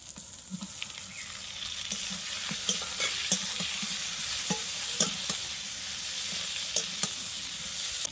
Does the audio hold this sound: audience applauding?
no